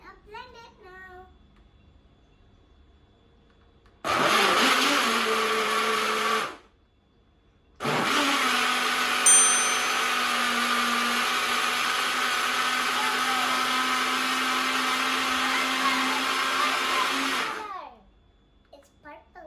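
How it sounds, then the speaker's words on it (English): A kitchen blender whirs loudly while blending a mixed berry and Greek yogurt smoothie, running in two steady bursts separated by a short pause, with a voice briefly before and after. "Now we are gonna blend it now."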